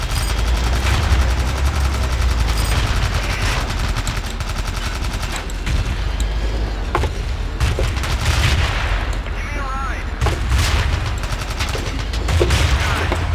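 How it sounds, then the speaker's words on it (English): Continuous battlefield combat in Battlefield 2: dense rapid gunfire and machine-gun bursts mixed with booming grenade explosions, loud and unbroken throughout. "we're taking too much grenade fire"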